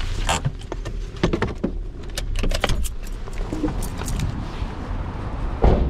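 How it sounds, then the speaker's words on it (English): A car pulls in beside another parked car, its engine idling low under a steady rattle of jangling keys and interior clicks and creaks, close and fairly loud with no talking. "it'd be nice if we could park the car side by side"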